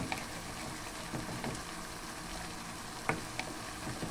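Small pieces of octopus frying in a pan with shrimp, onion, soy sauce and oyster sauce, a steady close sizzle with a few brief spatter pops and stirring clinks, no talk.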